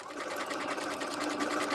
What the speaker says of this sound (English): I'm going to be stitching right on that line. I'm going to go ahead and put my needle down.